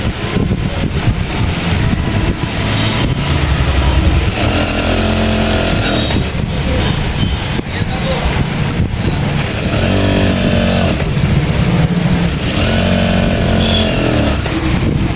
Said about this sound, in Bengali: এভাবে সেলাই করতে হবে